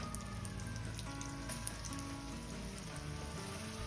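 Potato slices sizzle in a little oil on a hot griddle, a steady crackling hiss like light rain with faint pops throughout, close and even, with no talking.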